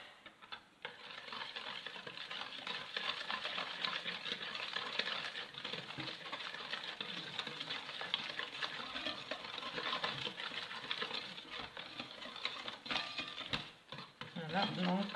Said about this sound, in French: donc on mélange bien jusqu'à ce que les ingrédients soient bien mélangés et homogènes